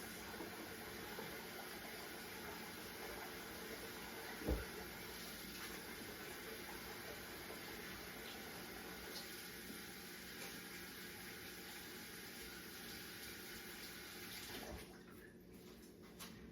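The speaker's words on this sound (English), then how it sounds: "All right, so I need to wash my hands." Running tap water pours steadily into a sink for a long stretch while hands are washed, a soft, even hiss at a distance with one brief knock partway through, and the flow tapers near the end.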